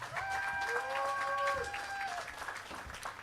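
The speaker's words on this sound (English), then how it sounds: "So can we give them a round of applause" An audience applauds at the Brentwood High School Class of 2021 graduation ceremony, a dense, fairly distant wash of clapping with a few whistles or cheers rising above it.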